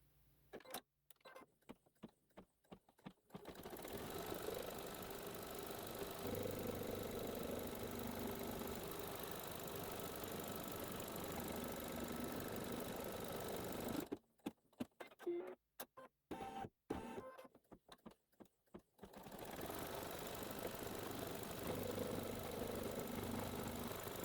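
A machine runs a long steady stitching pass to sew down background fabric on a quilt block, bracketed by short bursts of stop-start needle runs.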